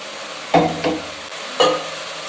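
Masala frying and being stirred in a pan for a rajma dish, with soft continuous sizzle broken by three distinct scraping strokes of the spoon, close and without talk.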